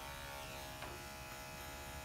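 An electric dog grooming clipper with a number 7 blade runs as a faint, steady buzz throughout, low and continuous with a soft brushing texture, close but quiet.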